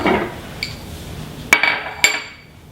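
Soaked walnuts tumble into a food processor bowl while making raw nuggets, heard as two sharp, close clattering knocks over a quiet kitchen background, with a softer clink earlier.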